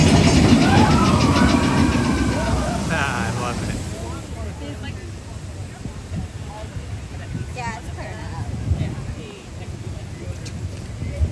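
The Disneyland Railroad train rumbles past, loud at first and then receding, with squealing wheels early on, while someone talks close by over wind noise.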